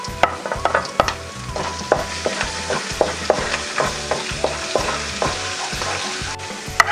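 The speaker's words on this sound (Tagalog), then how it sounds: "ilagay ko na po itong ating bawang" Garlic fries in beef oil left in a pan after frying beef, a lively sizzle and crackle broken by repeated scraping and knocking of a spatula against the pan, close and fairly loud.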